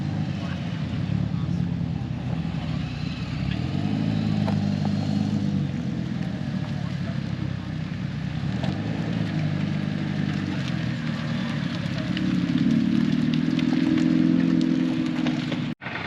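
Cars at a Japanese classics car show rolling into a car park, a steady low engine rumble of several vehicles idling and creeping past nearby, with a voice talking over them.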